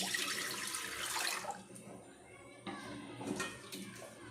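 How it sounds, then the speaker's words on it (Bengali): Water splashes into a pressure cooker set on a gas stove, a broad rushing pour at first that trails off into softer sloshes and a couple of clanks, close by. "কুকারটা বসিয়ে দিলাম, দিয়ে খানিকটা জল দিচ্ছি"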